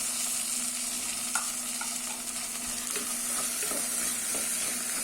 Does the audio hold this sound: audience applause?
no